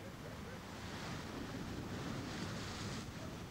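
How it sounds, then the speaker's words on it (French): Strong north wind howling by the sea, a continuous loud roar of gusts mixed with the wash of surf, steady and close throughout. "C'est le vent du nord qui souffle."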